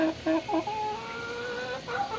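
Several chickens cluck and make short throaty calls nearby, a few quick bursts followed by a longer drawn-out call over a low background hum.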